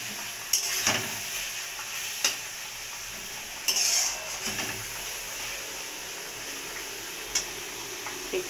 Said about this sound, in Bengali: একটু ভাজা হোক, আগে কষানো হোক, তারপরে আমি জলটা দেবো।